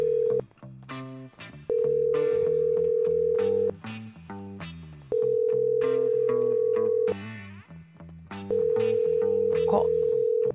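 Ringback tones from a phone call in the GTA V roleplay game repeat several times, each steady ring lasting about two seconds with gaps of soft background music and faint voices between.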